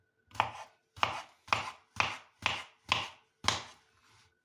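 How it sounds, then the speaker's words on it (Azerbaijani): Knife chopping quartered cucumber on a board for a shepherd's salad, seven evenly spaced crisp chops about half a second apart, close and clear with no talking. "Və bu şəkildə doğrayırıq."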